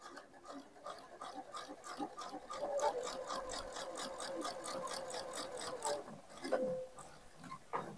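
A sewing machine stitches steadily around the edge of a DIY ironing mat, its rapid needle chatter close and continuous for several seconds with brief pauses at the corners, needle left down.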